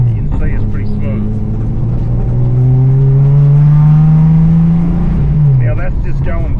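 A 245 Hemi with an Edelbrock VRS-650 carburettor on an Aussiespeed four-barrel manifold, still slightly cold, revs up smoothly as the car drives off and then eases back, a steady loud drone with a rising and falling pitch.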